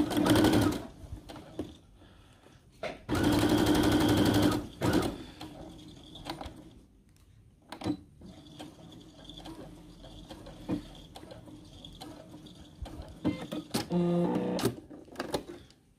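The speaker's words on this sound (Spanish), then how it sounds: "por ese lado le vuelvo a pasar otra costura para esconder o mantener oculta la costura" Domestic sewing machine stitching a seam on a fabric cushion with a ruffle, running in a few loud bursts with quieter pauses between runs, close by and alone with no talk.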